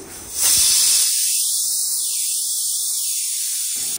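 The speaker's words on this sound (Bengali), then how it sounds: "প্রেশার কুকারে কিছুটা জল দিয়ে আমি এগুলো সেদ্ধ করতে দিয়ে দেবো। দুটো সিটি পড়া পর্যন্ত ওয়েট করব।" A pressure cooker boiling potatoes and plantains gives a loud, close, steady hiss of escaping steam. It rushes in after about half a second and holds unbroken to the end, with no voices.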